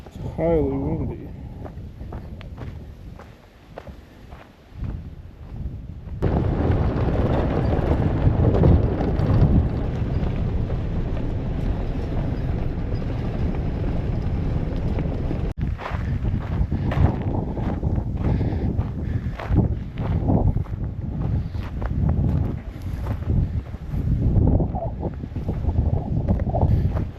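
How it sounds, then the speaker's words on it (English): Strong wind gusting across a lake at an off-grid campsite, a loud, continuous roar of buffeting wind over the microphone that swells and surges, with brief talk near the start. "It's highly windy."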